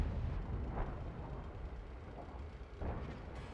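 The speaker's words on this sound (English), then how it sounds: "And Minigin decides to take a shot there, and he penetrates it" A tank cannon fires in an online tank battle game, giving a couple of muffled booms over a steady low rumble, fairly faint and distant.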